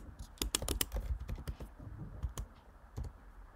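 Typing on a computer keyboard while writing Flutter code, close and fairly quiet, with irregular clusters of crisp key clicks spaced by short pauses over a soft background hiss.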